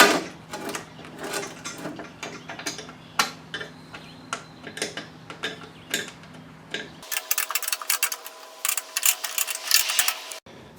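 Bolts are tightened on a Chamberlain C450 garage door opener rail, with quick repeated ratchet clicks in short bursts, near and fairly loud, the clicking growing denser toward the end.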